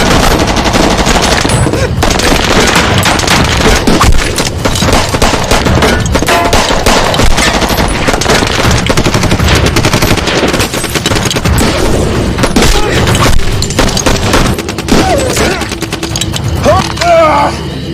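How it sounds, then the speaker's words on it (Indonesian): A movie gunfight between mafia gangs, with machine gun fire and gunshots bursting loud and near throughout in dense, rapid volleys under a constant roar of the scene. "terjadilah baku tembak yang sangat mengerikan"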